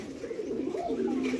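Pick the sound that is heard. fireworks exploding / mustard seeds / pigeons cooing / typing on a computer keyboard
pigeons cooing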